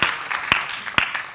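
Audience at a Joomla! World Conference keynote responding with applause, a brief patter of scattered claps with a few sharper individual claps standing out, moderately distant in a large hall.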